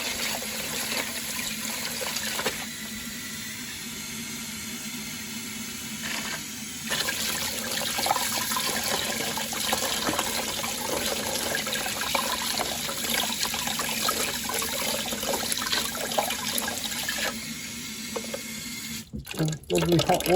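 Hot tap water running steadily into a sink while a muddy hand is rinsed inside a shepherd's hut, a continuous close splashing stream with brief shifts as the hand moves through it.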